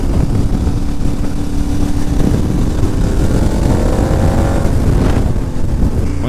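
A KTM motorcycle rides a gravel shortcut, its engine droning steadily and loudly throughout with a slight rise in pitch toward the end, mixed with road and wind noise.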